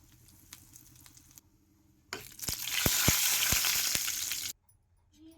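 Mustard seeds, cumin, crushed garlic and two dried red chillies hit a teaspoon of hot oil for a fenugreek leaf curry tempering, bursting into a loud, close sizzle with sharp popping crackles for about two seconds before cutting off.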